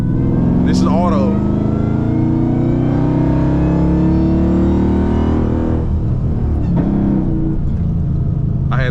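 A 1200-horsepower Dodge Hellcat Charger with a King Kong package accelerates hard, its engine droning steadily and climbing in pitch, with abrupt automatic gear shifts breaking the sweep. Someone talks over the engine noise.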